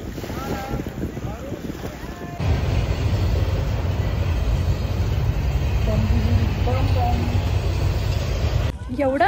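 A train passes close by near a beach in Canada, a loud, broad, sustained rumble that swells in after a couple of seconds and cuts off near the end, mixed with wind buffeting and some talk.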